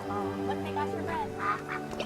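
Ducks quack in the video game That Dragon, Cancer, a few nasal calls repeating close by over a soft ambient music bed, with a voice speaking briefly over them.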